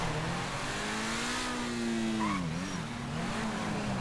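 A stolen car in a video game drives fast, its engine a steady, loud drone that dips briefly in pitch midway before holding level again over constant road noise.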